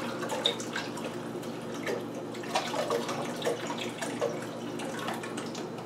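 Running tap water while spilled stock is cleaned off a stove: a steady moderate splash and trickle with scattered drips and small clatters nearby.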